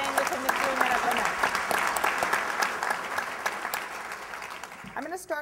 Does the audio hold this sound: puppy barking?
no